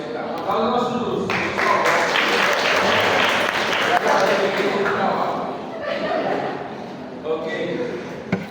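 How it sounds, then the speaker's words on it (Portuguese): A lecture-hall audience claps in a sustained round of applause mixed with chuckles and laughter, fading toward the end as voices carry on. "Um aplauso ao nosso Lúcio."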